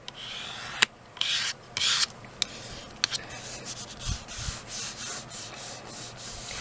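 Close, dry rubbing strokes across a wood transfer surface, smoothing it down in a series of uneven bursts and pauses, alone without talk.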